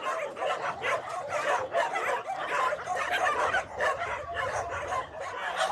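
A group of dogs kept in farm buildings bark continuously and loudly, overlapping yaps and yips in a dense, steady chorus close by, with a few whimpers mixed in.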